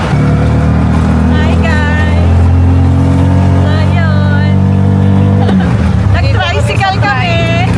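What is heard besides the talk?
riding a motorized tricycle (trike) in the Philippines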